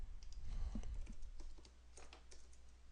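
Quick keystrokes tap on a computer keyboard nearby, a short burst of light, irregular clicks over quiet room hum.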